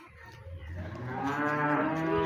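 A cow on a cattle farm gives one long, loud, close moo that swells and holds steady as it goes on, with no voices around it.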